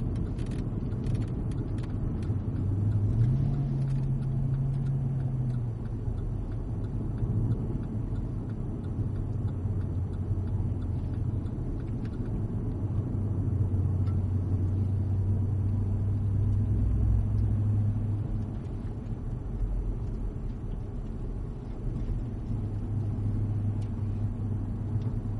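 Cadillac CTS-V coasting through a corner into the pit lane on a race track: a steady low engine and road rumble that swells and fades slightly, heard from inside the car, with faint ticking.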